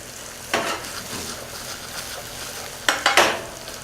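Spices crisp in hot oil in a pan for a vegetarian lentil soup, giving a steady close sizzle. Sharp scraping bursts of stirring break in once early and twice more near the end.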